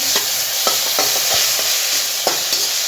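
Vegetable chow mein, made without onion or garlic, is tossed in a hot pan. Loud, continuous sizzling runs throughout, broken by repeated scraping and knocking strokes of the spatula.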